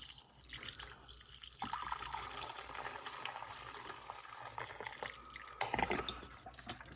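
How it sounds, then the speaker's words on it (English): Water pours and splashes into a wash basin of soapy water used for cleaning a Singer 401A sewing machine camstack and handwheel, a steady close trickling and dripping wash that runs for the whole stretch with no voices. "now I'm going to pour some more water"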